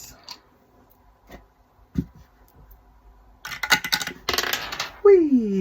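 A little die is rolled on a table: a few sparse clicks, then a quick hard clattering rattle as it tumbles and settles, followed by a voice.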